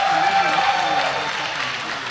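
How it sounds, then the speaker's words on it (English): Applause from a crowd watching longsword cutting finals at a HEMA tournament, a steady dense wash of clapping heard from a back room, continuous and moderately distant throughout. "You can hear in the back room, in the background, all of the applause for our cutting finals."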